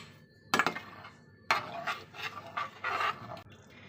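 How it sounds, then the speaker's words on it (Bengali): A spatula scrapes and clatters against a pan while hilsa fish curry is stirred, with a few distinct bursts of metallic scraping separated by short quiet gaps, close and fairly soft. "এবার একটু নেড়ে দেবো।"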